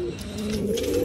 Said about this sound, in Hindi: ये हमारा सिराजी कबूतर है जो कि दोस्तों सबसे पहला वाला सिराजी कबूतर है।